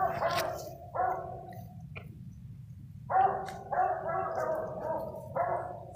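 A hunting dog barks out on a trail, with several clustered bursts of barking at moderate distance against a low, steady outdoor background.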